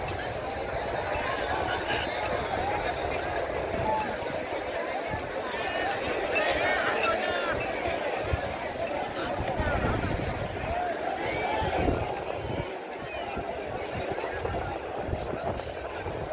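A vast open-air crowd gathered for a bullock cart race: a continuous loud babble of many voices and general hubbub for the whole stretch, with no single voice standing out.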